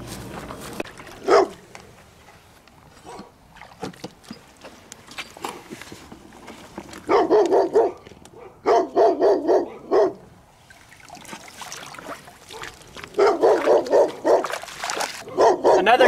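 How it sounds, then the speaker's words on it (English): Dogs barking near a mink and muskrat hunting spot, repeated loud bursts of barking in clusters over a quieter outdoor background, with short pauses between volleys and no talking. "you're going to have to deal with constant barking for this entire video"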